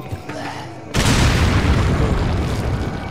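A grenade goes off in Resident Evil 4 as one loud, sudden boom that swells into a long, dense rumble of debris and noise, close and filling the space after a quieter moment.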